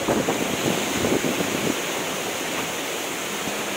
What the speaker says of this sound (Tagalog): Ito yung waterfalls, yan.